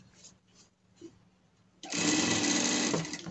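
A few soft handling sounds and light taps precede a sewing machine starting up, stitching the finish on a leather pet harness with a loud, close, continuous motor whir for the final second and a half.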